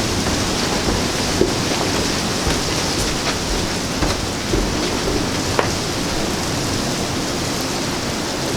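Cold wind gusting outdoors in South Dakota ahead of a November 2016 blizzard, a loud, continuous broadband roar buffeting close to the microphone with occasional sharper knocks.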